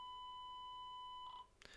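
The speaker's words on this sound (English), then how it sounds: "after a long beep, it goes into program mode" A long electronic beep from a Retevis RT55 floating marine radio entering program mode, heard as steady tones held clearly for about a second and a quarter, followed by a short burst of clatter.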